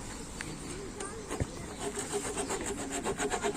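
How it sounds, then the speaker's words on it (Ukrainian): A metal-cutting hand saw working through a fallen tree branch, with rough scraping that settles into a quicker rhythmic rasping of strokes near the end, a faint bird call in the background. "Звичайно, що воно буде пиляти, то що це пилка, але ти її затупиш, бо вона тільки по металу."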